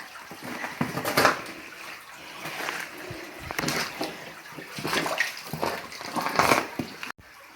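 Water flows and splashes through a cave passage in West Tennessee, irregular sloshing surges and splatters close by, as if stirred by footsteps, rising and falling in uneven bursts with no talking.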